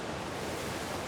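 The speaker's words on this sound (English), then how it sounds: "It's just a waterfall." A waterfall in the video game Ark: Ragnarok rushes as a steady, dense roar of falling water, heard alone for a brief moment.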